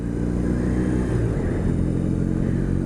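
Steady low rumble of a 2021 BMW R18 First Edition cruiser motorcycle riding at about 40 mph in second gear, a constant droning engine note under wind noise with no talk.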